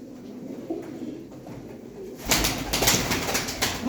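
Racing pigeons coo in a loft, a soft murmur that swells into louder bursts of wingbeats and scuffling as birds take off and flap close by.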